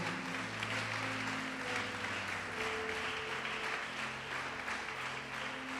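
Congregation applauding at a church service, a steady dense wash of clapping with sustained tones and faint voices underneath, continuing evenly throughout.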